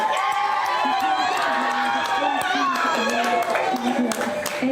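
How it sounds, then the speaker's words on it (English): A large crowd roars and cheers at the FIDE World Chess Championship 2024 as Gukesh wins, a dense, sustained wash of shouting and chanting with rhythmic calls, loud and continuous. "The crowd is going crazy here in King."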